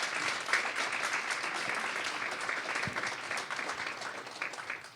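An audience at a university research event applauds the MC after his introduction, a full, steady round of clapping from a large crowd in a hall that holds loud throughout and tapers slightly at the end.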